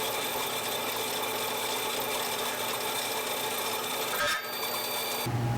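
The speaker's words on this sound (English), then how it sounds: "We chuck the angle aluminum into the bandsaw and get it chopped down to size." A bandsaw slices through angle aluminum stock for a dune buggy roll bar, giving a steady, loud, dense grinding whine that runs continuously, with a brief dip near the end before cutting resumes.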